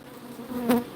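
Honeybees buzz steadily around a hive, making a close, continuous drone that swells briefly near the end.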